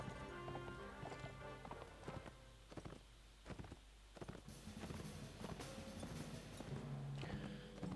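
Hooves clip-clop steadily in Mount and Blade: Warband as a horse moves along, a rhythmic close-up clatter over a soft background bed, with a brief whinny near the end.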